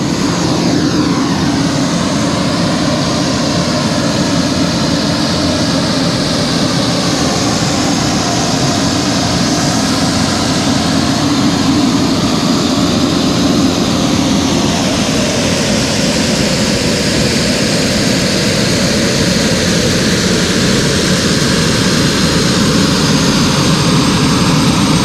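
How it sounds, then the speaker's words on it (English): A small airplane's engine drones loud and constant from inside the cabin in flight, a steady propeller roar with a slowly shifting tone and no voices. "That's a big airplane."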